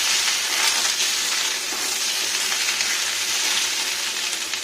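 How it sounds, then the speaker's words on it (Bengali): Drumstick (moringa) and Malabar spinach stems frying in a pan for a vegetarian pumpkin dish, giving a steady, dense sizzle that holds evenly throughout with no talk. "পুঁই ডাঁটা, সজনে ডাঁটা একটু ফ্রাই করে নিই"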